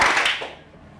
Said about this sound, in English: I want you to give me a clap on the count of 3.